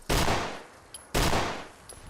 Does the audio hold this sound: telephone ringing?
no